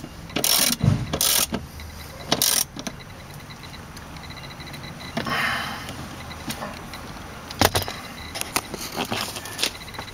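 A ratchet tightens a battery bolt on a 2005 VW Touareg. Short, sharp bursts of clicking come at irregular intervals against a quiet background, with no speech.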